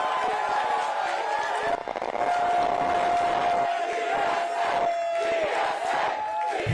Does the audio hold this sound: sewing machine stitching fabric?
no